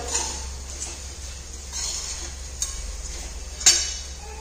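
Kolhapuri bhadang, spiced puffed rice, being stir-fried in a pan held with tongs, a quiet continuous rustle and scrape with a few sharp metallic clicks, no voices.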